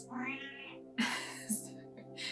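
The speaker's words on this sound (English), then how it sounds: "You may be hearing my cat." A cat meows repeatedly up close, drawn-out whiny cries with short breaks between them.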